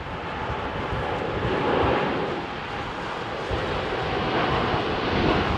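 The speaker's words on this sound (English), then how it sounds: "What about the United Dreamliner just leaving, Jilly?" United Dreamliner jet departing on runway 27R at Heathrow Airport, a loud, steady broadband engine roar that swells slightly and holds throughout, close by, with no talk.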